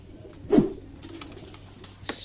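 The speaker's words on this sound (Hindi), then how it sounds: "अभी माशाल्लाह अच्छे मेरे कबूतर जो बड़े ब्रीडर नर मादी हैं" Breeder pairs of pigeons, males and females, give a low cooing call near the start, followed by faint shuffling and rustling nearby, with no talking.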